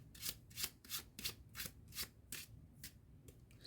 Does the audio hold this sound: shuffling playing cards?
yes